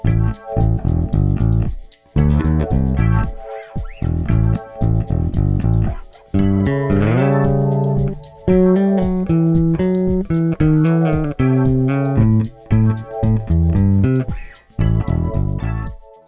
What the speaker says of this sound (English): What you're hearing there is a bass preset called Basic Bass